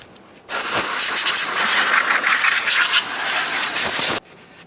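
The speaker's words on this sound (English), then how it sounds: "I'm going to use some compressed air and a clean rag." Compressed air blasts in one sustained, loud hiss lasting a few seconds as it cleans around the brake master cylinder of a 2015-2020 Ford F-150, then cuts off abruptly.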